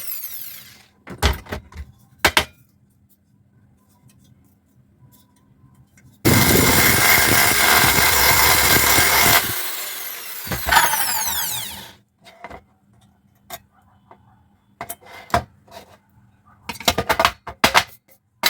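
A drilling machine fitted with a 5.5 mm bit runs in one loud buzzing burst of a few seconds while assembling an HDMI ARC decoder box, surrounded by scattered clicks and handling knocks.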